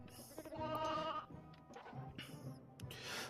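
Sheep bleating in the Toy Story 2 video game, one long wavering bleat up front followed by shorter game sound effects and chimes, fairly close and clear.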